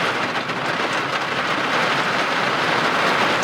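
Heavy rain pours outside in a severe storm with a flood watch, a dense steady roar of water drumming on surfaces that stays loud and even throughout with no talking.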